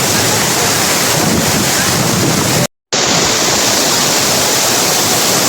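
A 120-foot waterfall in Maragusan, Davao de Oro roars as a loud, steady broadband rush of falling water with wind buffeting the microphone, continuous throughout apart from one brief dropout midway.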